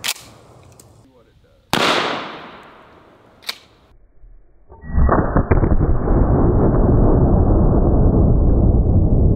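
A Mossberg Shockwave 590 shotgun fires a 12 gauge mini shell loaded with number four buckshot, giving one sharp, very loud blast with a fading tail, followed by a small click and then sustained loud rumbling noise.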